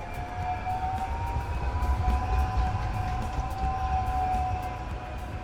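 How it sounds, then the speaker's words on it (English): A tram passes on rails in a rainy city street, a steady rumbling roll with a high sustained squeal and faint rhythmic clicks, moderately close and continuous for several seconds. "In the other direction the trams are moving still."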